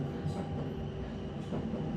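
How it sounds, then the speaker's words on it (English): A train rumbles past in the background, a steady low roar with faint rail rattle, heard continuously throughout at moderate distance. "Sorry about the train."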